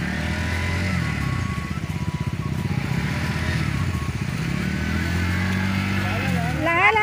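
A motorcycle engine chugs steadily through a flooded, potholed road, a loud close rumbling drone that lasts throughout, with a voice talking over it.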